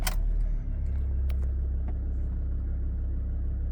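Mazda BT-50 engine cranking and catching at the start, then settling into a steady low idle rumble, close and continuous with no talk.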